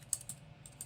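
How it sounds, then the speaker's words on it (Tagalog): Quiet, sparse key clicks from a cheap Daiso computer keyboard, a few soft taps spread over a second with a low background hum. "Tunog na ng keyboard"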